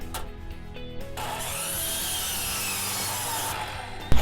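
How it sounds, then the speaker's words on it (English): Hand saw cutting through wood at a 60-degree angle while installing a Little Free Library: a steady, continuous rasping stroke, loud and close, with no talk and a sharp knock at the very end. "now we need to get a 60-degree angle cut"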